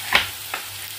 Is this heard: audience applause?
no